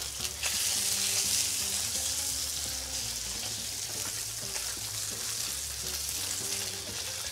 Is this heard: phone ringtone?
no